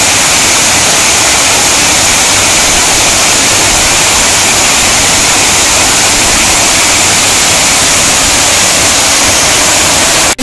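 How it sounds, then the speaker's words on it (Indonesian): Steady, loud rush of a tall waterfall, a constant broadband roar with no pauses or other sounds. "Ini dia air terjun kedua."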